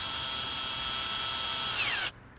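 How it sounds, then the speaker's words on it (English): A power drill drives a Phillips head screw, threaded and dabbed with Loctite, into a homemade metal nunchuck, whining steadily and close up for about two seconds before stopping abruptly. "Screwing it in."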